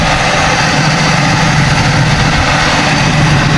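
A 1983 Oldsmobile Omega engine idles steadily after float and needle carburetor trouble, a continuous low rumble at close range with no talk over it.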